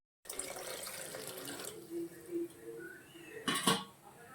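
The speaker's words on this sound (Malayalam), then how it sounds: "ഇനി നമുക്ക് ഈ വറുത്ത് വെച്ച പരിപ്പ് നമുക്കൊന്ന് കഴുകി എടുക്കാം" Roasted dal (split lentils) is washed in water in a kitchen, a faucet running close by with light splashing and a few clinks of a vessel.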